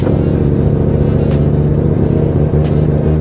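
A Mazda 2 fitted with a 13B PP-port rotary engine and an MR2 gearbox idles loud and close, a deep, choppy brap-brap burble with a steady uneven pulse and slight throttle swells.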